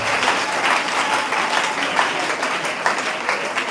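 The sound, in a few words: congregation applauding for the Lord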